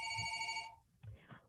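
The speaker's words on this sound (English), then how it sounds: "Excuse me one second. I'm sorry about the phone." Telephone ringing with a bright, steady electronic bell tone that stops partway, followed by a person speaking briefly.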